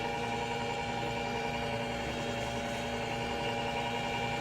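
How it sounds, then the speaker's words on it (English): A food processor or blender runs in a home kitchen while almond milk is made across the room, giving a steady, unbroken motor hum with a low droning tone and no pauses or talk. "that humming you hear is my daughter making almond milk"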